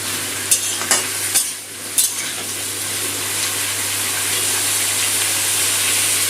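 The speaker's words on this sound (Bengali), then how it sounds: "গ্যাসটা বাড়িয়ে দিয়ে নুনটা আলুর সাথে মিশিয়ে নিয়ে আলুটা ভেজে নেব।" Salted potatoes frying in a pan over raised gas heat, a steady close sizzle that swells slightly over time, with a few sharp clinks of a utensil against the pan early on.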